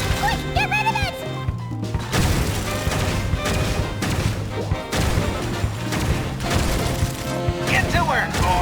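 A bomb goes off in Genshin Impact amid a burst of crashing, booming impacts layered over game music and character voices, loud and busy for several seconds.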